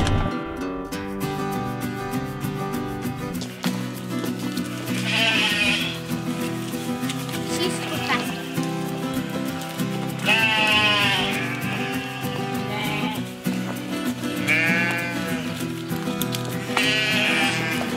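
Sheep bleat repeatedly over a dense, continuous background, several wavering calls spread across the stretch, fairly close and loud.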